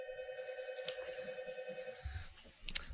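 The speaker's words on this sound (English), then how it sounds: "That's our phone ringing." A telephone rings in a room, its electronic bell tone steady through most of the clip before cutting off, with faint background rumble and a brief clatter near the end.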